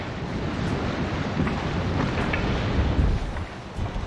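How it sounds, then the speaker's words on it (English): Choppy sea water off Key West with gusting wind buffeting the microphone, a continuous rushing wash of waves and air, fairly close and steady with no voices. "Water's a little choppy today."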